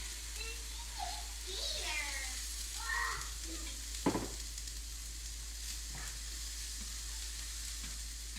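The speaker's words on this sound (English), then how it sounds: "So we're going to let this simmer for a couple minutes so all that nice seasoning can get all over these lentils." Seasoned lentils simmer in a pan with a steady soft sizzle and bubbling, a single sharp utensil clink partway through, and a faint voice in the background.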